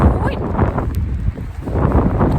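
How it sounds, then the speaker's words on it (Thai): Strong wind gusting outdoors on a street in Harrogate, England, on a rainy day, a steady broadband roar buffeting the microphone close up for the whole stretch, dipping briefly midway; no one speaks. "เพราะว่าลมเห็นไหมพี่น้อง"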